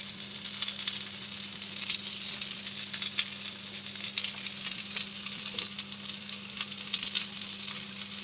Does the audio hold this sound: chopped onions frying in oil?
yes